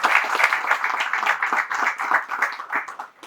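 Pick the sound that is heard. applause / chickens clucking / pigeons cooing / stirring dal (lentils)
applause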